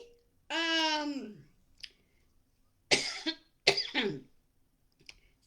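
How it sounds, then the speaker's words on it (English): Indoor coughing from a woman who has been dusting: a drawn-out voiced throat sound, then a short pause and two harsh, close coughs a moment apart, with a faint click at the end. "sorry, I'm coughing."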